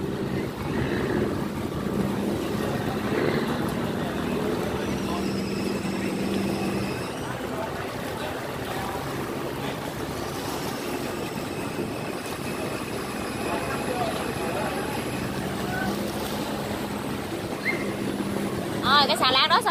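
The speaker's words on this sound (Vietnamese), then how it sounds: "chứng kiến các ghe đi qua lại cống" Low droning boat engines rumble steadily nearby as boats pass through a ten-gate sluice, with people talking over the continuous motor noise.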